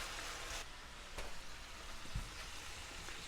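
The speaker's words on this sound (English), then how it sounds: "I'm going to cook the meat just a couple minutes before I add the onions" Meat frying in a pan, a steady soft sizzle and crackle running throughout with a few brief louder pops, no talking.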